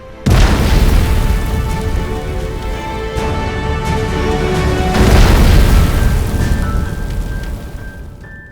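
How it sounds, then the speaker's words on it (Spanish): Avianca Flight 52, a Boeing 707, crashes into a hillside and tears through trees: a sudden loud boom swells into a sustained, roaring rumble, surges again midway, then tapers off. "con una explosión ensordecedora, exactamente a las 9:34, el avión se estrelló."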